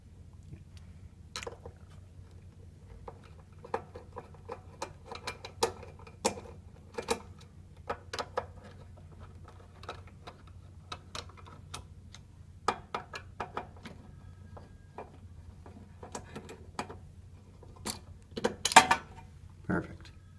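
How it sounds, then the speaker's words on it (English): Scattered small metallic clicks and ticks come from a screwdriver backing out the three mounting screws of a safe lock, quiet, irregular and close, over a low background hum. "Now we can remove the three mounting screws."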